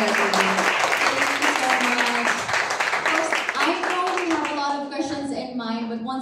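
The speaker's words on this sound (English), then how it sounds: "Let's give them a warm round of applause, everybody" An audience applauds panelists at a digital college event, steady clapping that fades toward the end while a voice speaks over it.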